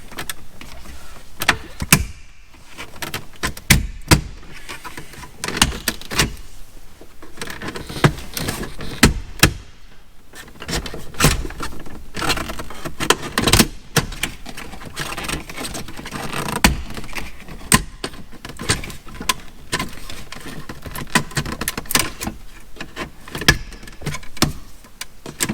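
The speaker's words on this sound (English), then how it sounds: "I use a trim tool. It's a little bit easier on your fingers. You're just going to come around and pop this up" A trim tool pops up the radio trim on a 1994–2004 Mustang, making repeated sharp plastic clicks and snaps at an uneven rhythm, close and fairly loud, without speech.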